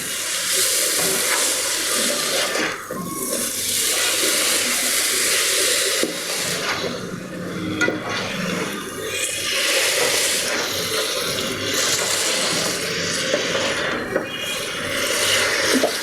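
Rice pumpkin frying with sugar in a pan, a steady loud sizzle and hiss running the whole time with scraping stirs, no talk.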